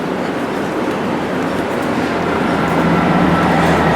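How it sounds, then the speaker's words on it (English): A Class 158 diesel train rumbles at a platform in Preston station, giving a steady, loud, broad roar that builds slightly with no break. "There's a train on platform 1 now"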